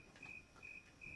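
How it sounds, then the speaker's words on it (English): A snowy tree cricket chirps in a steady, evenly spaced rhythm of three pure, high trills, faint and alone against a quiet outdoor background. "So that's a snowy tree cricket."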